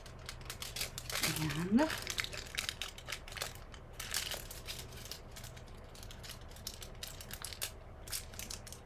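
Aluminium foil crinkles and crumples as it is pulled out and wrapped around a candy bar, close up, in irregular rustling bursts with a brief squeak, while a person talks over it.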